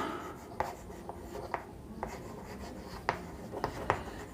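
Writing on a board during a Class 9 geometry lesson makes a string of close, irregular taps and scratchy strokes over a low steady background, with no talk.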